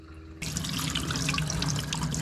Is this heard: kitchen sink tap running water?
yes